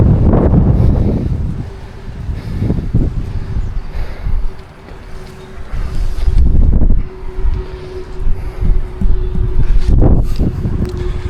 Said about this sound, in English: It's a bit windy, hopefully you can hear me.